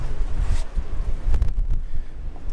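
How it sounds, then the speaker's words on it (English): Gusty outdoor wind buffets the microphone with low rumbling roar and uneven swells, steady throughout with no talk. "I don't know if you can hear the wind blowing"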